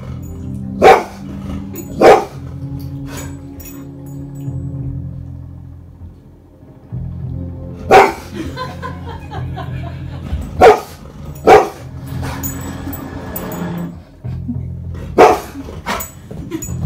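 A golden retriever barks loudly in single sharp woofs, spaced irregularly several seconds apart, over a low rumbling background.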